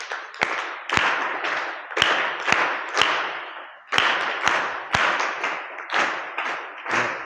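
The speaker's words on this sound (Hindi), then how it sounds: "और गुरुजी के लिए एक जोरदार ताली बजाकर स्वागत कीजिए।" At a children's values camp, an audience claps in rhythmic groups of sharp, close claps, repeating in steady sets of three with brief pauses between rounds to welcome a guest speaker.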